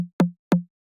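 Two synthesized snare drum body hits, each a short tonal thump with a quick downward pitch sag, spaced apart with silence between and after.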